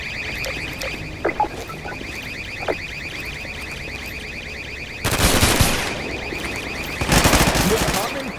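Automated turrets in Half-Life 2 roleplay open fire in two sustained bursts of rapid gunfire, loud and close, over a steady humming alarm-like game ambience.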